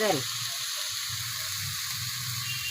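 Garlic and onion frying in oil in a home kitchen pan, a continuous close, bright hiss and sizzle holding steady throughout after a brief opening clatter, with a low voice murmuring underneath.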